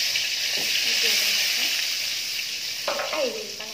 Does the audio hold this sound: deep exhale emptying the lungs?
no